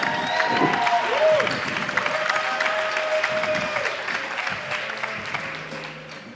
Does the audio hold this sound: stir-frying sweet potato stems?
no